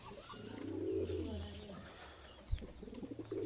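Kaldumma pigeons kept in a loft coo in a low, throaty burst that swells and fades over about a second, followed by softer cooing and a brief knock.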